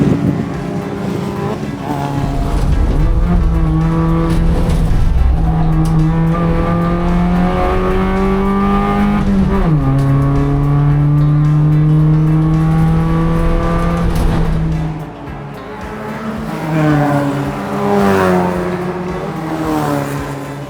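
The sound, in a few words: race cars accelerating at the start of the Levitas Cup race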